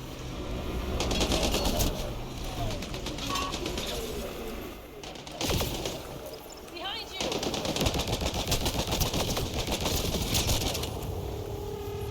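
Rapid gunfire in the sci-fi shooter Mass Effect Andromeda, with dense bursts and crackling shots whizzing past for most of the stretch, a brief lull near the middle, then sustained heavy firing again; no talk.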